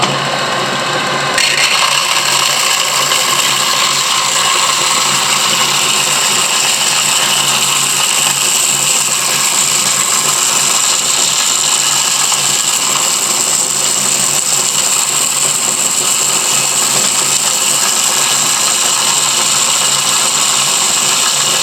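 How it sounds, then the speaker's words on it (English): A power sander runs at steady, loud speed while it cleans up a fossil shark specimen from Lebanon. It starts abruptly and grinds on without a break. "I'm going to take that over to the sander and clean that up."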